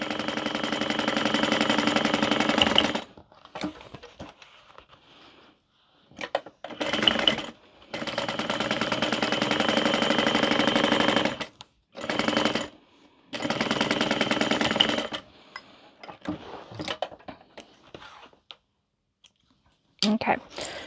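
A sewing machine stitches across the bottom of a fabric car trash can in repeated bursts, loud steady whirring runs of a few seconds each, separated by short pauses and brief handling noises.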